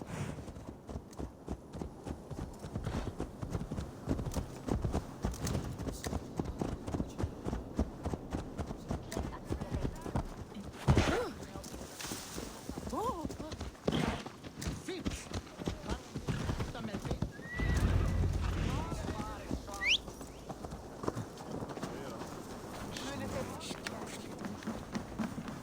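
In the Assassin's Creed Valhalla video game, horse hooves clop in a steady rhythmic trot, with a loud neigh partway through, while voices talk over the hoofbeats.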